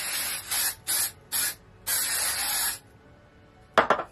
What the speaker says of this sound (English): I'm just up here spraying.